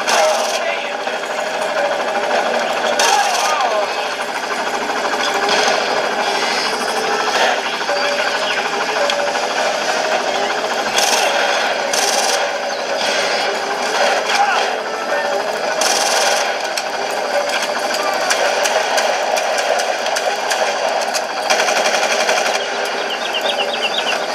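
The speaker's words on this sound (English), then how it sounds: "couple more shots and the chopper will take off." Helicopter engine running on the ground before takeoff, a steady, dense mechanical whir and clatter that holds at an even level throughout with no pauses.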